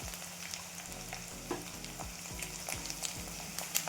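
Roasted chana dal and onion sauté in a pan, a soft continuous sizzle with a regular rhythm of spatula stirs scraping the pan, fairly quiet and with no talk.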